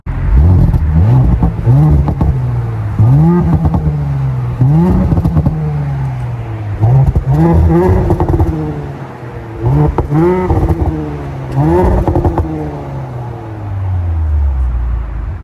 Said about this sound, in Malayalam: അപ്പോൾ എക്സോസ് നോട്ട് ഒന്ന് കേട്ട് നോക്കാം